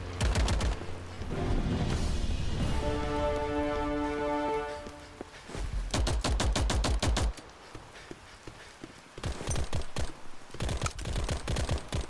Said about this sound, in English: My gun's fucking firing.